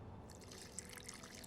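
Water poured in The Witcher 2, a faint trickling, splashing stream with a few soft drips, heard alone.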